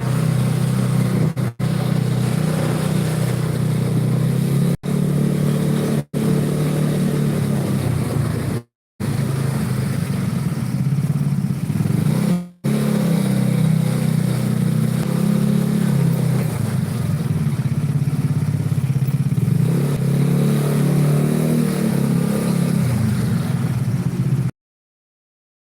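A motorcycle engine runs close by for over twenty seconds, a steady loud low rumble with slight rises and falls in revs and a few abrupt cutoffs.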